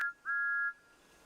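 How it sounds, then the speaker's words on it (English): A steam engine whistle gives a brief toot and then a steady, clear tone that holds for about half a second before cutting off, fairly faint and alone. "steam engines can blow their whistles"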